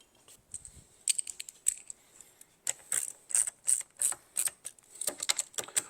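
A ratchet clicks while tightening down a fuel cell during a NASCAR Toyota Supra build, giving close, crisp bursts of rapid metallic clicking in short repeated strokes with brief pauses between them.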